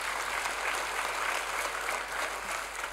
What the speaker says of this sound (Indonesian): saya ingin memberikan aplaus kepada tim musik kita semua di sini